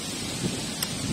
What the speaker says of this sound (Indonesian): Macam ni lah kalau hujan atas jambatan ni